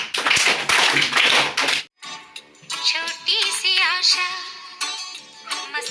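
Students clapping in a classroom, a burst of loud, dense applause that cuts off sharply, followed by children singing a song together.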